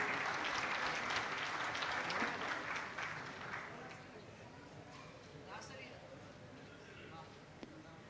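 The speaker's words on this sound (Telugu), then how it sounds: "ఒకసారి గట్టిగా చప్పట్లతో స్వాగతం పలకాలి ఎవ్రీవన్." An audience claps loudly to welcome a guest at a live event with an orchestra, a dense burst of applause that gradually fades and thins out over several seconds.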